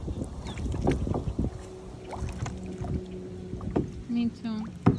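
Kayak paddles dip and splash in lake water with close, irregular sloshing strokes and some wind noise, while people chat and laugh nearby.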